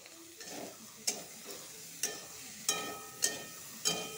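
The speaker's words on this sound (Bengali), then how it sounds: "একটু ভাজা ভাজা করে নিব বন্ধুরা।" Bitter gourd fries in a pan with a steady soft sizzle, broken by about six sharp scraping stirs spaced roughly every half second, close and clear with no talking.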